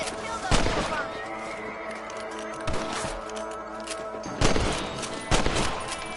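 Gunshots in Red Dead Redemption as rabbits are shot, with four or five loud, sharp cracks spaced a second or so apart over a steady outdoor game ambience, close and punchy.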